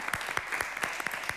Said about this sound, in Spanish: A mí me gustaría primero aplaudirlo para darle la bienvenida a Sebastián Lanzani.